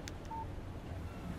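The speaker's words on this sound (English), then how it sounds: "Text message from Barry." A short in-game phone text message alert from Alan Wake Remastered, a single brief electronic tone followed by another faint beep over a low background hum, with no talking.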